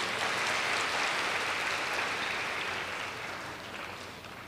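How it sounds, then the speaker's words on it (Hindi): An audience at a spiritual talk breaks into a dense wash of clapping that holds steady and then slowly fades, with no voices over it. "तो उनके लिए ताली बजाइए।"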